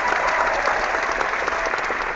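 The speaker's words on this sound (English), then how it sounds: "Let's give them a round of applause." A round of applause from a studio audience, dense and even from start to finish, with no talk over it.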